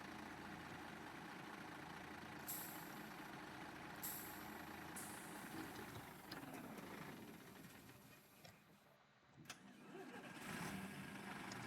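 A bus in the OMSI 2 driving simulator rumbles steadily while its air brakes give several sharp hissing releases before the engine pulls away.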